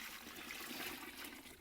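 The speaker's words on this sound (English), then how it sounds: "I'll add the water." Water from a pre-weighed container pours into a dry cement-type mix, a soft, brief trickling splash heard close up and quiet, without talk.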